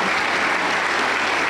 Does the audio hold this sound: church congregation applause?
yes